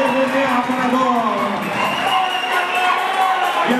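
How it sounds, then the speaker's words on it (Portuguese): An audience at an amateur MMA fight event cheers and applauds the fighters, a steady dense roar of crowd noise sustained throughout at close range. "vamos dar uma salva de palmas para essas guerreiras"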